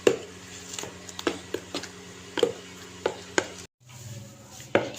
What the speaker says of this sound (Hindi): तो इसको हमने अच्छे से मिक्स कर देना है।